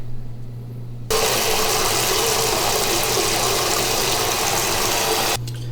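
A loud continuous rushing, gurgling hiss of aquarium water being drawn through a hose starts abruptly, holds steady for several seconds, then cuts off over a low hum.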